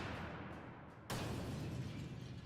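Cars blowing up in explosions, played back over speakers in a studio: quiet rumble, then one sudden loud blast that stays dense and booming to the end.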